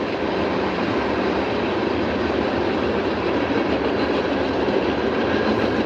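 A train rolls past a backyard, loud and close, its continuous rumble and rattling wheels holding steady throughout with no talking.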